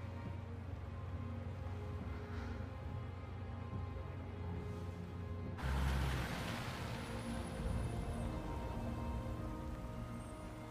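Rain in the Resident Evil 2 Remake game, a steady soft hiss of falling rain over a low rumbling hum that grows suddenly louder and brighter halfway through, as if a car door opens onto the downpour.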